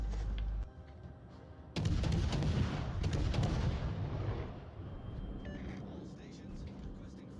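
Ship artillery booms in the World of Warships Legends game, a heavy low blast followed by a long rumbling roar and crackle, with a voice talking over the gameplay.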